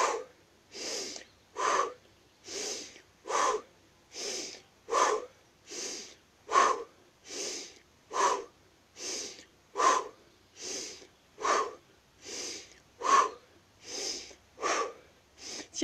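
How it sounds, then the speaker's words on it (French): Deep rapid breathing exercise, paced inhales and exhales repeating steadily about every 1.6 seconds, each breath a loud, close, breathy rush of air with no talking between. "inspirez et soufflez"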